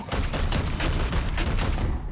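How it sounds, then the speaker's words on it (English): Sustained rapid gunfire from the sci-fi tactics game Warhammer 40,000: Chaos Gate – Daemonhunters, a dense, continuous volley of shots at steady loudness for about two seconds with no voices over it. "Firing now."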